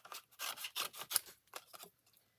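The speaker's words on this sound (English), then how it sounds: "I am going to do a little fussy cutting. I'm going to cut these out" Paper snips fussy cutting out small paper pieces for a card make, giving a series of quick, close, crisp snipping and rustling strokes in a quiet room.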